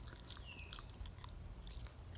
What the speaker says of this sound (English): this is gonna take a lot of chewing